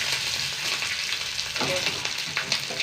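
Curry leaves and dried red chillies sizzle and crackle in hot oil close up, a busy hiss with sharp little pops scattered throughout.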